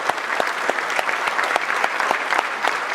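Audience at a KTR event in Indianapolis applauding in a dense, steady burst of clapping from many hands, filling the room evenly with no talk over it.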